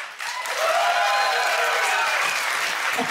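Audience applause at a live comedy and magic show, a sustained wash of clapping from a full room that swells quickly and holds steady, loud and close, with no talk over it.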